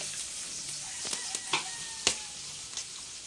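Garlic and onion sautéing in a pan for escabeche, a soft steady sizzle with a few faint clicks and scrapes of stirring, quiet and close.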